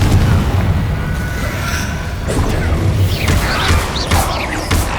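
Deep booming blasts from the Confringo explosion spell in the video game Hogwarts Legacy, heavy low rumbles with crashing, popping debris bursts and sharp impacts, loud and close throughout.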